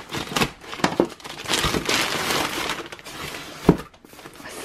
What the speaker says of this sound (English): This month shipped in this little polymailer heart bag. Let's cut it open and see what we have.